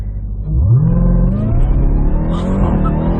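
A Jeep Trackhawk launches hard from a standstill, its engine roaring up loudly and continuously as the car accelerates, heard from inside the cabin with no talking over it.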